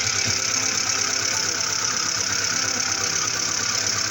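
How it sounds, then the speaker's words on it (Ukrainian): Cold VAZ 2107 car engine idling, a steady, even low rumble with a continuous mechanical hum, close and unbroken, with no voices. "І ось це звук холодної машини."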